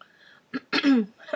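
A person coughs a few times in quick, harsh bursts, close by, with a throaty rasp between them, from seasonal allergies.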